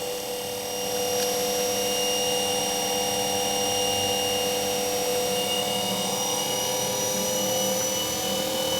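A universal AC series motor runs at high speed on only 40 volts, giving a continuous, even, high-pitched whine with a steady electrical hum underneath, moderately loud and uninterrupted.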